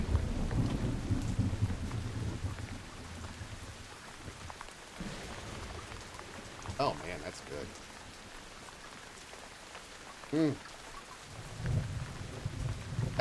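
Rain pours steadily in the video game Once Human while thunder rolls low at the start and rumbles again near the end; a voice briefly comments in the middle.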